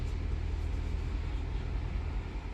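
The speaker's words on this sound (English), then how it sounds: "And the exhaust mode has been activated" The supercharged 5.0 V8 of a 2020 Jaguar F-Pace SVR, exhaust mode on, gives a steady, deep rumble while cruising, heard from inside the cabin at a constant level with no voices.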